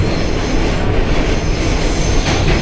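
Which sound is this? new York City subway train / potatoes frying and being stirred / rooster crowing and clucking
new York City subway train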